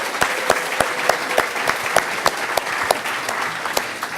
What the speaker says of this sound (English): So please, a round of applause for Massimo Pigliucci